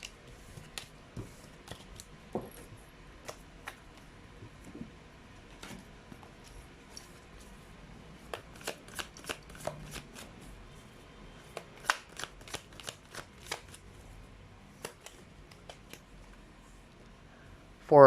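Tarot cards shuffled by hand in a quiet room, a long run of soft riffling clicks and flicks that come in uneven bursts and grow busier partway through, with a final louder rustle.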